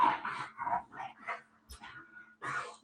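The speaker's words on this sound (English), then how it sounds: "He's wrestling the dog." A bulldog growls and grumbles in short, uneven bursts while someone wrestles with it, close and fairly quiet, with brief pauses between the growls.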